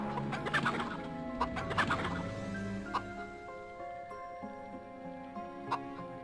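Chickens clucking in the video game MediEvil, a run of short clucks over a steady musical score, busy at first and then sparser, isolated clucks.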